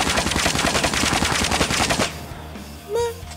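A gripped gun fires a rapid close-range burst in COD Mobile, the loud shots rattling for about two seconds before cutting off into quieter game ambience with a brief tonal blip.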